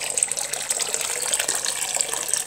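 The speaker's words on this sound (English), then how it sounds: "what I'm going to do now is introduce just boiled water" Just-boiled water pours in a continuous, fairly loud splashing gush while mixing orchid fertiliser, with no voices over it.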